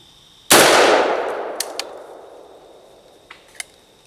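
A shotgun slug strikes a steel target with one loud, sharp clang that rings and decays over several seconds, followed by a few faint small metallic ticks.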